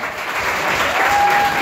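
Wedding guests break into steady applause, a dense wash of clapping that swells slightly and holds throughout, with a faint tone running underneath near the end.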